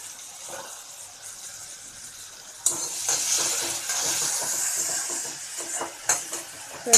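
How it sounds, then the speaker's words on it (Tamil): Onions and tomatoes, salted for a cauliflower curry, sauté in a pan. A faint crackle gives way to a louder, steady sizzle about a third of the way in, with close spoon stirring and scraping against the pan. "ஸோ இப்போ வெங்காயம், தக்காளி ரொம்ப நல்லா வதங்கிடுச்சு."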